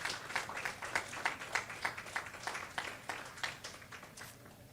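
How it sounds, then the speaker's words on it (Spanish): A church congregation claps during a Spanish-language sermon, a soft, somewhat distant patter of many hands with a loose rhythm that fades toward the end. "Dale un aplauso al Señor"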